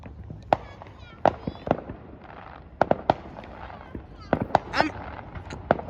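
Fireworks burst in a series of sharp, loud cracks and bangs at irregular intervals along 4th Street in Chesterton, Indiana, with people talking in between.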